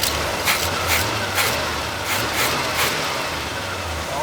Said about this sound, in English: How about a rev?